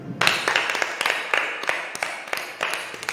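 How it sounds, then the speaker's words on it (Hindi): A congregation at a prayer meeting clapping loudly in a steady, rhythmic beat, with sharp, even claps repeating in time throughout. "जोरदार तालियों से परमेश्वर का स्वागत करते हैं"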